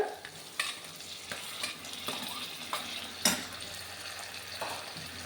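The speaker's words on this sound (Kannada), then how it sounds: "ಇದನ್ನು ಸ್ವಲ್ಪ ಫ್ರೈ ಮಾಡ್ಕೊಳ್ಳೋಣ" Green chillies frying in a pan with a soft, steady sizzle, punctuated by several sharp spatula scrapes and clinks against the pan.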